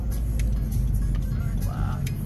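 A Honda Civic Type R (FK8) engine rumbles deep and steady nearby, a constant low exhaust drone with faint background noise.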